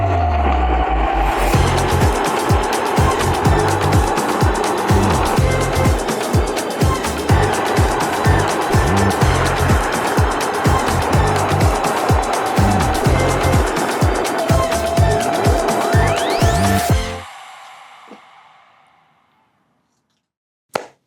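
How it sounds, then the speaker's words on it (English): A go-kart engine runs loud and close, a buzzing, pulsing drone with rhythmic throttle surges for about seventeen seconds before it cuts out and fades to near silence. "the go-kart is up and running again"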